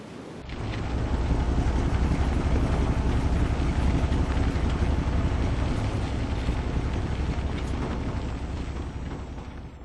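A sea tractor's engine in the video game Evil Under the Sun rumbles loud and continuous, a deep churning drone with a broad wash of noise that holds steady for about ten seconds after a sudden start.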